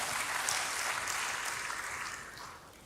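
Church congregation applauding at a worship service, a dense sustained wash of clapping that fades slightly toward the end, with no talk over it.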